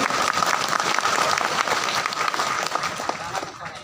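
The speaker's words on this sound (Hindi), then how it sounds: "शिवरतन शर्मा जी जोरदार ताली बजाइएगा।" Dense crowd applause at a BJP election campaign rally in Farasgaon, Chhattisgarh, steady and loud throughout with a faint voice underneath, tapering slightly near the end.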